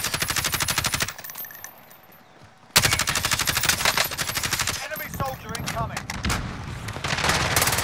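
Dense, sustained gunfire in Call of Duty: Modern Warfare, automatic bursts rattling almost continuously with a brief lull, loud and close, with some voices mixed in.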